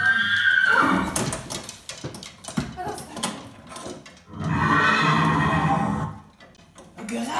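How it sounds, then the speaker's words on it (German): A horse whinnies in two loud, drawn-out calls, the first at the start and a second after a short lull, with a brief snort-like burst at the end, played as a guess-the-sound moment in a children's story. "Ein Pferd!"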